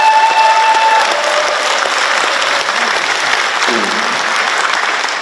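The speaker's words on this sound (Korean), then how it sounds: "박수 한번 보내주시기 바랍니다." Audience applause at a book launch event, a steady dense clapping from a crowded room that carries on through the whole stretch without a break, with a short tone audible near the start.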